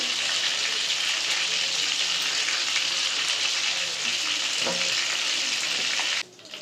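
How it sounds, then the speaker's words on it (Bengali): Chicken pieces fry steadily in a pan of hot oil for restaurant-style doi chicken, a dense, even sizzle running close and loud almost to the end before it briefly drops away. "দই চিকেন করার জন্য চিকেনটা ফিফটি পার্সেন্ট ফ্রাই করতে"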